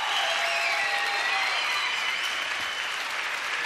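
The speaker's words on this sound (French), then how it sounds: "Applaudissements pour lui, s'il vous plaît." Studio audience applause for a guest on a French television variety show, a steady, dense wash of clapping that fills the whole stretch at an even, fairly loud level with a faint crowd murmur.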